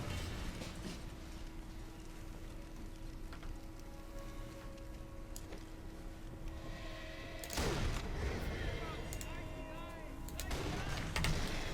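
Gunshot from a sniper rifle in the video game Sniper Elite 4, a sharp boom near 7.6 seconds with a second blast near 10.5, over a steady droning game soundscape.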